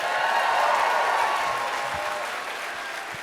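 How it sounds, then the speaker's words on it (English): Audience applause at a comedy show, a steady wash of clapping that swells early then slowly fades, with no talk over it. "let's applaud that"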